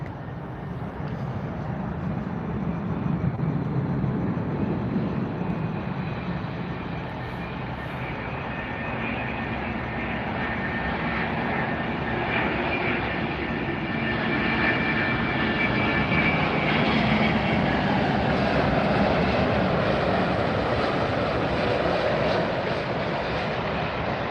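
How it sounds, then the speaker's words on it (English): An Air Europa Boeing 787-9 Dreamliner airliner roars steadily at an airport in Miami, its jet engines forming a broad, sustained rumble that swells slightly over about twenty seconds, with no talking. "Air Europa 787-9 Dreamliner."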